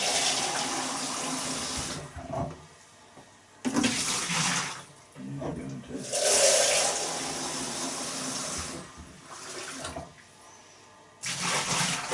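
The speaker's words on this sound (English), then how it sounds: "Now obviously we've got to swirl this out, so we'll use some water in here." Tap water runs in several separate bursts, splashing into a winemaking vessel as it is rinsed out, with quiet pauses between the gushes.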